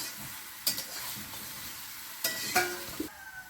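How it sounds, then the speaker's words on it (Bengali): Pumpkin greens sizzle softly in a pan over a steady frying hiss, broken by a few sharp stirring scrapes and clinks, close and without voices. "কুমড়ো শাকটাও হচ্ছে ভাজা"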